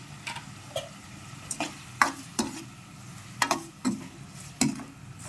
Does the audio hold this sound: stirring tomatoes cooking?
yes